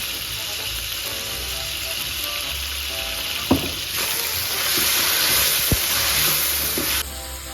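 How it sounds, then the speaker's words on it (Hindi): Chicken fries with garlic and ginger in a pan, sending up a loud, even sizzle and hiss, with a few sharp clanks from stirring and a brief louder burst near the end. "तो अदरक लहसुन के साथ इसको मैंने थोड़ा फ्राई कर लिया"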